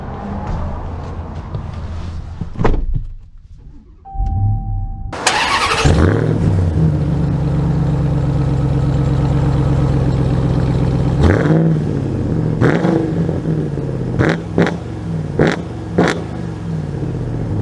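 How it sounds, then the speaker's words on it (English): A Hennessey Mammoth 1000 truck sets off and drives: after a brief quiet pause the engine roars up loudly and holds a steady drone, with several shifts and revving surges, near and prominent, without talk. "So we are initially setting off in the Mammoth 1000."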